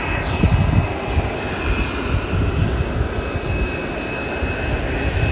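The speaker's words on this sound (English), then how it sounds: "That special livery that is pushing back at this time is the Washington State Cougars livery heading over to Seattle" A jet airliner in Washington State Cougars special livery pushes back at Boise airport, its engines giving a steady broadband roar with a faint high whine, continuous and moderately distant, with no talk.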